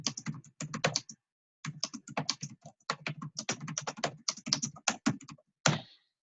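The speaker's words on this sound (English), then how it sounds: "So I would just type that in" Typing on a computer keyboard in bursts of quick, close clicks and taps, with short pauses between runs and a final louder keystroke.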